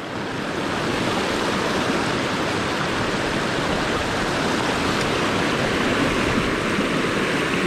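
A strong current rushes through a trout stream in Cherokee, a loud, steady, close wash of water that runs unbroken from start to finish with no voices.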